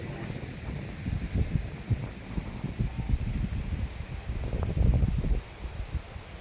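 Wind gusts buffet the microphone outdoors on a sunny fruit-picking outing, a rough, low rumbling roar that swells and fades unevenly, loudest near the end, with no voices.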